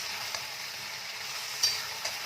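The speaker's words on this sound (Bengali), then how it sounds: "দিয়ে জিনিসটাকে আরেকটু ভালো করে ভাজা ভাজা করে নেব" Vegetables with eggplant fry in a pan, giving a soft, even sizzle with a couple of brief louder crackles and stirring touches, heard alone without speech.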